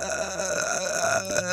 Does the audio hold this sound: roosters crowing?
no